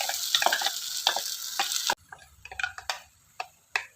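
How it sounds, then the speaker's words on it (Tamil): Ground masala paste hitting browned, finely chopped onions in a hot pan for chole masala, a loud bright sizzle that cuts off abruptly halfway, followed by softer sputtering and several sharp stirring clicks. "அரைச்ச விழுதை நம்ம அதில் போடும்."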